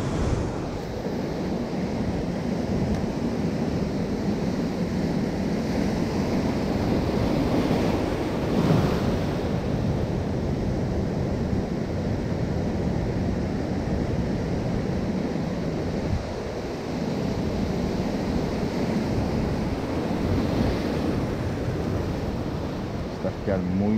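Ocean surf washing steadily against a rocky shoreline during sea bass fishing, a continuous broadband roar with some wind buffeting the microphone and a voice talking intermittently over it.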